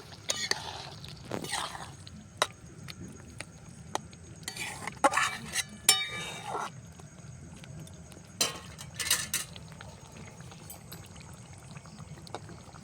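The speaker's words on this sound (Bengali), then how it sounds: "এবার আমি ঢাকনাটা খুলে নেব দু তিন মিনিট হয়ে গেছে দিয়ে একটু নাড়াচাড়া করে নেব" A spoon stirs achari paneer masala in a pan during home village cooking, scraping and clinking in short irregular bursts over a faint sizzle, close and moderately quiet.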